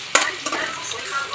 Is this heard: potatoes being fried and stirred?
yes